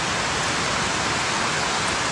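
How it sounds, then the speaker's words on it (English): Wind-blown rain pours steadily into an outdoor shelter, a dense, even hiss with no breaks or voices. "What kind of shelter do I need to build to block this rain? It's blowing in."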